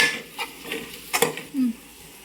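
Spices and curry leaves are stirred into Nellore fish curry, with several scraping, clattering strokes of a utensil against the pan over a faint sizzle.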